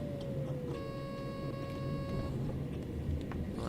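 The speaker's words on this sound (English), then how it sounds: "Does sound a bit like a Hoover though, doesn't it? The motors." Electric train traction motors in Train Sim World 3 on the Niddertalbahn route, a steady vacuum-cleaner-like hum with a high whining tone that holds briefly and fades, under constant rumbling running noise.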